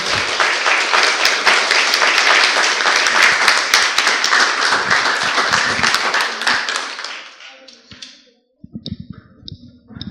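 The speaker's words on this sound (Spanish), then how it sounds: "denle un aplauso al Señor" A church congregation applauds loudly for several seconds at a Bible school session, the clapping thinning and fading out, followed by a few scattered taps and clicks.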